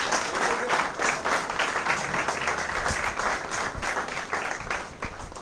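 An audience claps at an inaugural session, giving a standing ovation in a hall, with sustained mid-distance applause that rises and falls gently.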